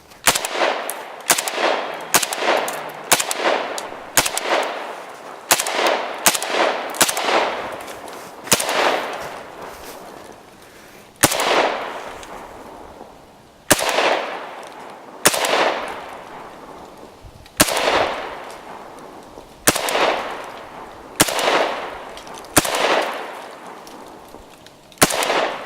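An AK-74 rifle fitted with a weapon light mount fires outdoors in a torture test: sharp, loud single shots in quick uneven strings, each followed by a long echoing decay, with no talking.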